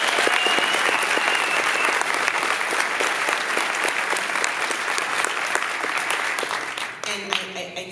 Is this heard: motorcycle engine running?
no